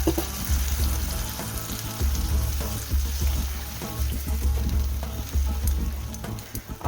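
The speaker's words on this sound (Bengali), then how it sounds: "সামান্য একটু জল দিয়ে দেব মশলাটা সুন্দর হওয়ার জন্য।" Water splashed into a frying spice masala for an egg omelette curry, bursting into loud sustained sizzling and bubbling with a steady hiss, stirring scrapes and crackling pops throughout.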